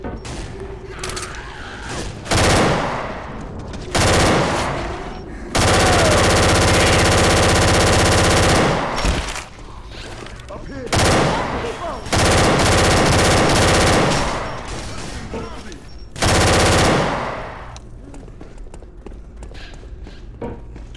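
Sustained bursts of automatic machine gun fire in the zombie shooter Left 4 Dead 2, loud and close, coming in several long volleys with short pauses between them.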